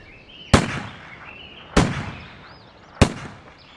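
Three booming cannon blasts of a 21-gun salute for a British viceroy, evenly spaced about 1.2 seconds apart, each a sharp loud report with a long rolling echo tail, no voices.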